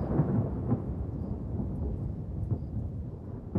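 Thunder rolling during a thunderstorm with intra-cloud lightning, heard as a faint, low, continuous rumble with a few soft cracks, distant and muffled throughout.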